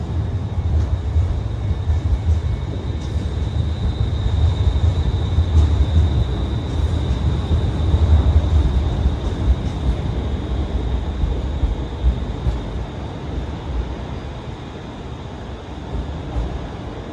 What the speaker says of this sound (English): Departing out now is the 10:08 Scotrail service, starting here at Glasgow Central, going to Paisley Canal